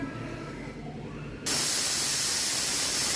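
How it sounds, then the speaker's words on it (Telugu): A pressure cooker cooking mutton paya lets off its seventh whistle, a sudden loud, steady hiss of escaping steam that starts halfway through and continues alone. "ఇది ఏడో విజిల్ అండి ఆపేస్తున్నాను"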